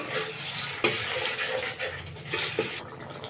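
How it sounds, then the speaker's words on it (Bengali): Water added to cooked-down masala in a pan for a fish roe curry, making a loud hissing sizzle with stirring scrapes and a couple of spoon knocks, then cutting off abruptly. "এবার আমি জলটাকে অ্যাড করব।"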